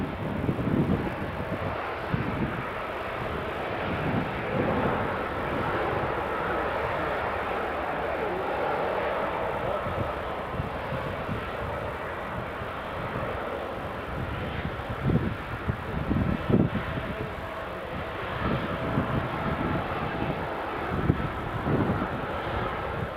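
A Jet2 airliner at Edinburgh Airport produces a steady, loud jet engine roar that holds throughout, with some wind buffeting the microphone.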